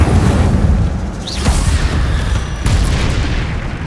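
An Incendio fire spell blasts in Hogwarts Legacy with a loud, rumbling boom and crackling bursts. It sounds close and forceful, with the roar carrying on for several seconds.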